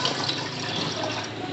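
Falsa berries being washed in water, a steady close splashing and trickling wash of liquid without pause, fairly quiet and with no talk.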